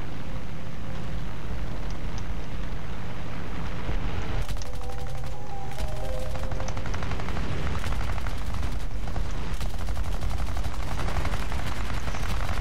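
Aircraft guns firing in War Thunder during a dogfight with a Wyvern, with dense rattling bursts of machine-gun and cannon fire over a steady engine drone, loud and continuous.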